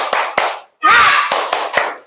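A school class does a rhythmic ice-breaker clapping chant, with sharp close hand claps in a patterned beat broken by a brief burst of voices.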